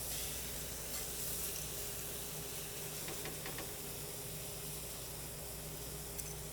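Delmonico steak fillets, reverse-seared, sizzle steadily in a hot pan with a continuous, close frying hiss that holds its level throughout, with no voices.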